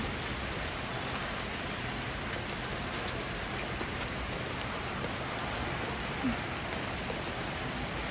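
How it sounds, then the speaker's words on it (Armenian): Heavy hail falls in California in a dense, continuous roar of pattering impacts, loud and steady throughout the clip with no voices. "կարկուտ է"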